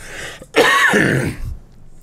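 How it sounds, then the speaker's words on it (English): A single harsh cough, close and loud, following a brief throat-clearing sound, then quiet. "the cough has been bad today"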